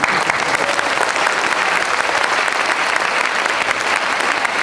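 Sustained audience applause fills the room at a motivational talk in Kolkata, dense steady clapping from a large crowd throughout with no pauses.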